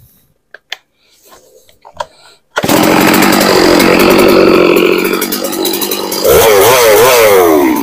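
Chainsaw cutting wood while felling a tree, starting abruptly after a few faint knocks and running loud and close, the engine roaring steadily and then wavering in pitch near the end.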